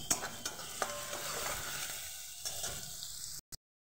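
Onions frying in a pan with a little sugar, stirred steadily, giving a close, continuous sizzle with scraping strokes for about three and a half seconds before cutting off to silence.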